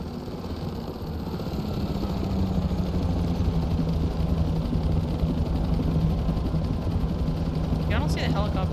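Helicopter in the game PEAK, a low, steady droning engine and rotor hum that swells slightly and holds, with someone talking over it.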